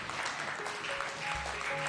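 Faint, distant applause from an audience at a gathering attended by the Reverend Jesse Jackson, a soft continuous patter with a few thin sustained tones beneath it.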